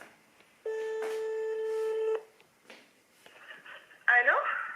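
An outgoing phone call rings back with one long steady tone in the earpiece, then a pause and faint background noise before a voice answers on the line.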